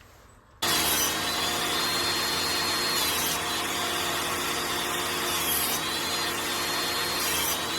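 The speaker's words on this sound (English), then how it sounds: "I'm going to cut some segments" A power saw cuts segments of wood for a pendulum lamp cover, starting abruptly and running as a steady loud whine and rasp with slight surges as the blade bites, close by and without talk.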